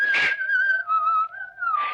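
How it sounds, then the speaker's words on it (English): A single person whistles a clear, sustained melody, the pitch sliding gently between notes, close and fairly loud, with a soft breathy burst at start and end. "Just somebody whistling down the road."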